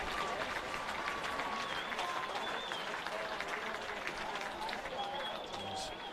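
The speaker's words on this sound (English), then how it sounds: "A generous applause from the crowd here at Wyong Oval" Scattered applause from the crowd at Wyong Oval during an open grade football grand final, distant and diffuse, with a commentator talking over it.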